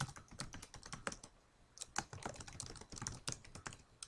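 Keys clatter on a computer keyboard in quick, uneven bursts with a short pause in the middle, close and fairly quiet, entering an SQL query with no talking.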